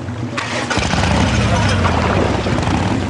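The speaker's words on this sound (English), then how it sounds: "It's just a massive car engine strapped to the back of a boat." A boat driven by a big car engine strapped to its stern rumbles to life, a low throaty roar building and holding close and loud, with people talking over it.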